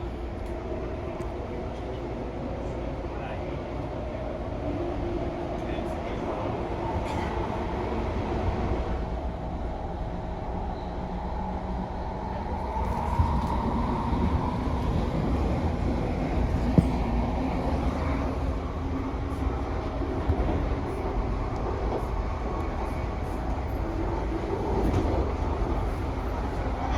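An MTR Airport Express train rides between the airport and Tsing Yi, giving a continuous, even interior rumble with faint rattles and occasional clicks, and no talk over it.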